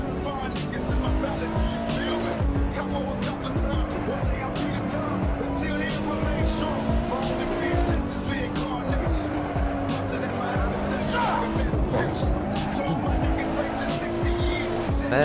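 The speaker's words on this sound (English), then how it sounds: "Some heavy duty drifting going on" Tires squeal and skid repeatedly as cars drift on the Nürburgring in the Assetto Corsa racing game, with engines revving and gear changes throughout and ongoing speech mixed over the action.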